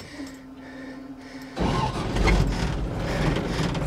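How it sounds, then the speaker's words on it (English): A truck engine starts abruptly partway through, after a quiet stretch with a faint hum, then settles into a loud, steady low rumble as the revs come up. "fire the truck up, kind of bring the RPMs up a little bit"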